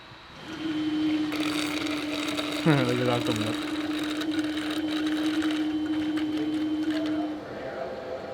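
A water pump on a car being hot-started runs at full power as a steady, sustained whine that holds for several seconds, with a brief descending burst of other tones midway and people talking over it.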